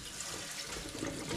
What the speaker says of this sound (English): they've been outside, so we're gonna give them just a good rinse